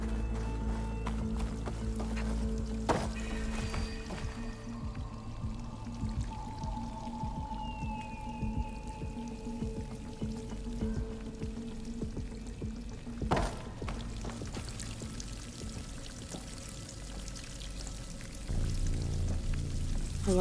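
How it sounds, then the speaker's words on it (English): Runoff water trickles and pours steadily into a ruin inside a game world, a continuous close splashing flow with scattered drips and a brief sharper splash partway through. "There must be runoff from the peaks above. It may have been leaking in for some time."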